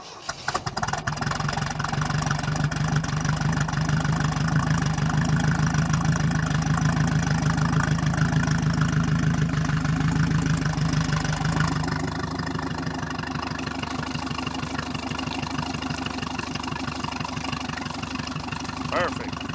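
A 1976 Mercruiser 120hp boat engine cranks over and settles into a steady, loud idle at close range, its throbbing low rumble holding for most of the clip before dropping slightly lower and calmer.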